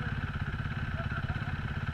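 A motorcycle engine idles steadily close by, its low, even chugging running throughout without a break.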